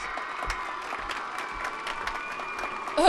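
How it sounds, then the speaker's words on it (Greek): Children in a cartoon school ceremony applaud steadily for a sixth-grade pupil, a thin even patter of clapping lasting throughout, with a brief louder burst right at the end. "ένα μεγάλο χειροκρότημα για την ιδιοφυΐα μας της 6ης Δημοτικού, τον Κένι."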